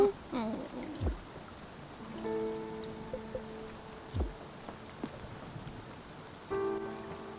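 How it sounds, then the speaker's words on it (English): Light rain patters steadily in the video game Spiritfarer, soft and continuous, with scattered low thuds and brief tonal game sounds layered over it. "Oh, this rain."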